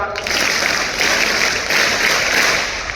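Audience applause fills a hall during a Holy Spirit Mass, steady and dense for about three seconds with a brief dip midway, no talk over it.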